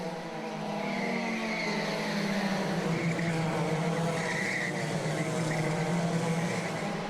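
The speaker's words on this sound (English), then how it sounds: "Maruta already racing with a penalty, pushing his way past Steve Harris." Race cars compete on a circuit in a C100 race at Rye, their engines droning steadily with tyre squeal and overlapping engine notes at moderate distance.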